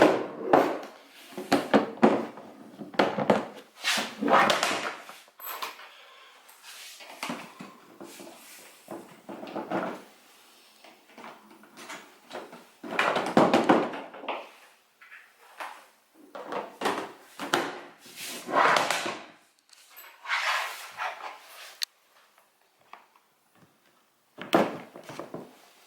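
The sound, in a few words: reassembling a Meiho VS7070 plastic tackle box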